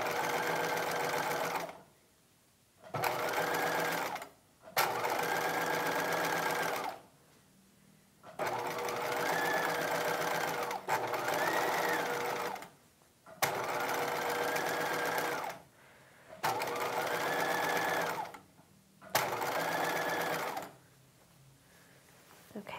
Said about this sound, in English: I'm just turning it in as I go and stitching right to the left